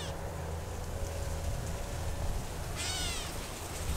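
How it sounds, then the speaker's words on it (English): A gray catbird near Lake Pontchartrain, Louisiana, gives a short mewing, cat-like call over steady outdoor background noise. "God, I do love hearing the gray catbird. His call is so unique. It really sounds like a cat."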